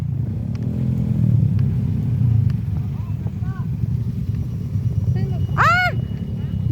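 Motorcycle engines idle and rumble close by along the Mayton river, a steady low drone with people talking over it and a brief whistle-like sweep near the end.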